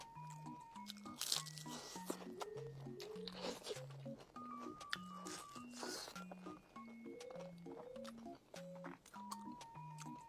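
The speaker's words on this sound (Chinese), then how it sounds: "先来个蛋挞热热嘴" Close crunchy bites and chewing of an egg tart with a Dubai chocolate flavour come in repeated sharp crackles over a light, stepping background melody.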